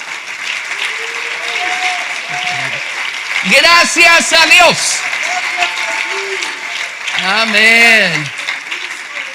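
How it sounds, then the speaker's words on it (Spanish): A church congregation claps and cheers during a sermon, a steady wash of applause under a voice calling out in bursts. "Démosle un aplauso a Jesús."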